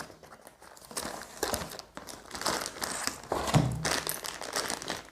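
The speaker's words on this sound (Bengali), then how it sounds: "এই প্যাকেটটা এবার খুলছি।" Someone opens the packaging of a Brolaviya universal mobile stand, with crinkling and crumpling in uneven bursts, close up and fairly quiet, and no talking.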